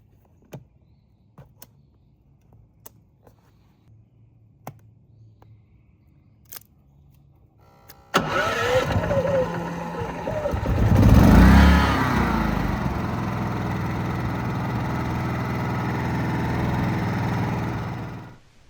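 A GIDROX 11,000W tri-fuel inverter generator starts after several sharp clicks and then runs with a loud, steady engine hum close by, briefly rising in pitch as it settles into a constant drone.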